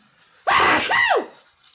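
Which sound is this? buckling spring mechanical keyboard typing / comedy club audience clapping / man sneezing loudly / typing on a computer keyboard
man sneezing loudly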